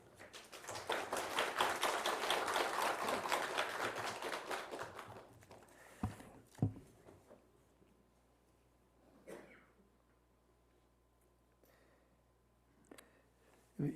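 A church congregation at a Korean worship service applauds in a thick, sustained burst that fades after a few seconds, followed by scattered faint taps, shuffles and a cough in a quiet room.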